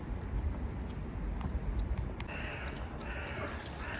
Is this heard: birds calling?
yes